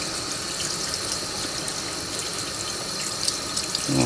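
Water pours steadily from a tap during a home-brewing chiller and pump test, a continuous broadband splashing rush close by, with no speech over it.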